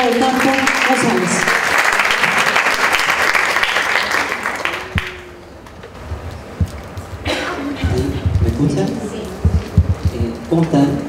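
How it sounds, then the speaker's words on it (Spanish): An audience at a Latin American reading comprehension congress gives dense, loud clapping for about five seconds that then fades, followed by a brief lull and then voices speaking amid scattered sounds. "Recibamos con fuertes aplausos a Aldo Ocampo González."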